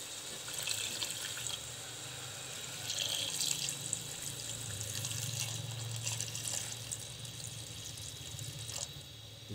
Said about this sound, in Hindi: अब इसमें पानी डाल देना है।